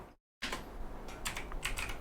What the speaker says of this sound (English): if you type